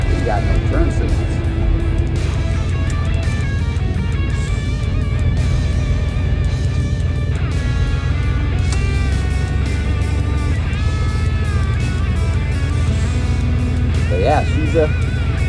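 Steady, loud engine drone and road rumble from a GMC Caballero that had sat for over 20 years, cruising on a short test drive, constant throughout with people talking over it inside the cab.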